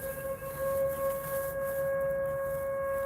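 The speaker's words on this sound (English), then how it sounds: "That's my bite alarm, Mr. Frosty." Continuous electronic fishing bite alarm tone, a steady high pitch with harmonics, sounding over outdoor background hiss for several seconds.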